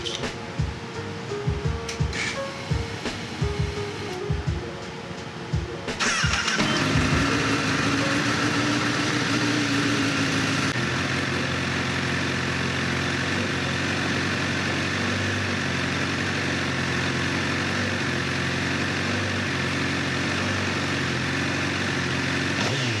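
Honda CBR1000RR motorcycle engine cranking with a rhythmic starter chug, then catching and settling into a steady loud idle that runs on alone to the end.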